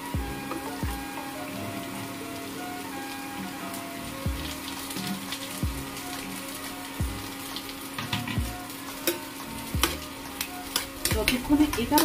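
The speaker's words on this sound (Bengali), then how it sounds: "আমার এই সবজিগুলো বেশ কিছুটা ভাজা ভাজা হয়ে এসছে।" Vegetables and onion fry in a pan with a steady sizzle, while a utensil stirs and scrapes at regular intervals. The cooking is close up and there is no talking.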